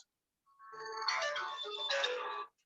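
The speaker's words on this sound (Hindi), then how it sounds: "जफर साहब अपना फोन म्यूट कर दें, आपकी वजह से डिस्टरबेंस हो रही है इस मीटिंग में।" A mobile phone ringtone chimes through an online meeting, a bright electronic melody that starts after a brief silence and plays steadily for about two seconds before cutting off, faint and alone.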